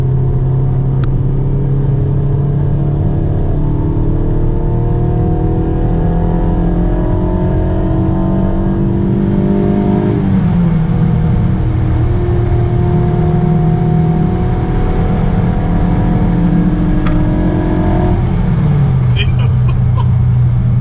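A Honda Civic with a freshly rebuilt K24 engine (new timing chain, head gasket, guides and tensioner) revs hard through a 4th gear pull, a loud steady drone whose pitch climbs and resets as the run continues.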